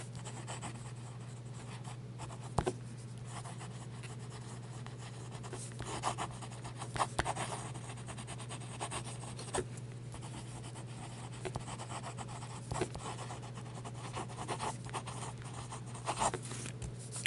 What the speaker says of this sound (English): That's some fast writing.